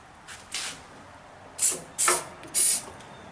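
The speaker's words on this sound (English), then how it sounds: "let's try a little bit of electrical contact cleaner" Electrical contact cleaner sprays in short hissing bursts at the ignition of a 1977 MTD 990 lawn tractor that won't start: two faint puffs, then three loud close blasts in quick succession, with no talking.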